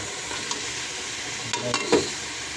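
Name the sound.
chicken sautéing in oil for tinola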